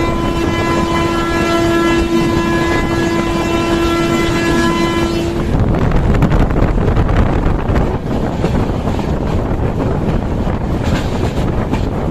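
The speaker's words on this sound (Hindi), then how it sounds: "इसी मस्त रफ्तार में हमारी ट्रेन रक्सौल पाटलिपुत्र एक्सप्रेस को क्रॉस कर रही है।" Passenger express train running at speed past the Raxaul Patliputra Express, with a sustained horn blast for about five seconds before the blast cuts off. A loud, continuous rumble of wheels and wind follows.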